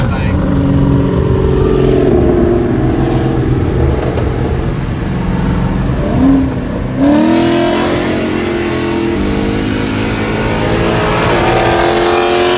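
Loud Dodge Scat Pack with a Whipple supercharger and big cam, its engine droning and revving hard with rising whine as it pulls, close up, with people talking over it.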